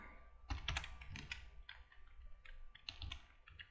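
Keys clatter on a computer keyboard during spreadsheet editing, a quick irregular run of close, crisp clicks and taps with short pauses between bursts and no voice.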